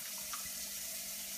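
Warm water runs steadily from a kitchen tap, a loud continuous hiss with no pauses or voices.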